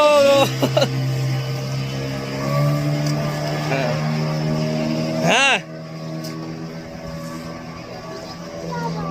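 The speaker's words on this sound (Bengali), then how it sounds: "কত জোরে স্পিড বোর্ড আসতেছে দেখতে পাচ্ছেন" A speedboat roars past at speed on the water at Safina Park in Godagari, Rajshahi, its steady engine drone rising and then sweeping down in pitch as it passes close by, followed by a quieter engine hum. Voices talk over it.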